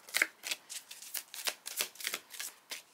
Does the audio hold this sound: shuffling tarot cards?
yes